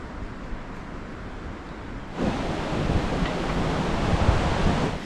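A small stream on the Agasthyarkoodam trekking trail in Kerala rushes with steady, broadband noise that grows noticeably louder and fuller partway through, with no voices.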